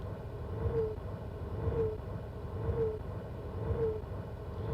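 Owl hoot sound effect from the video game Myst on PSP, a soft, mellow hoot repeated four times at an even pace of about one per second over a low, steady rumble.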